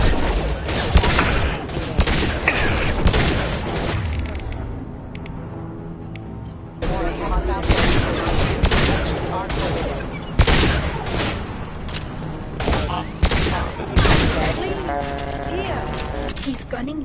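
Bursts of gunfire in the Mass Effect Legendary video game crackle in loud volleys between stretches of quieter ambience, with sharp single shots and a rumbling background.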